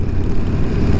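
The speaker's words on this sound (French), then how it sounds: "Sympathique bruit d'une Harley" A customised Harley-Davidson motorcycle engine gives a loud, continuous low rumble, thick and steady with no pauses, heard close by.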